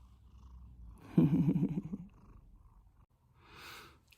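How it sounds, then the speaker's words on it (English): A kitten purrs while being cuddled, a close, steady rumbling burst of about a second with no talking, followed later by a soft breathy rustle. "Time for cuddles with kitten."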